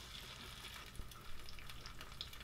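Eggs frying in a frying pan, a steady bright sizzle and crackle with scattered small pops, moderately close and continuous, no talking over it.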